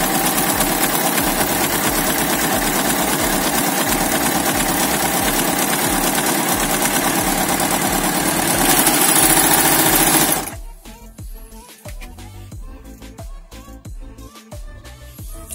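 A Lidl Pfaff 1450 OL overlocker runs steadily as fabric feeds through, a continuous close mechanical whir with rapid stitching rhythm that stops abruptly near the end, leaving quieter handling noises.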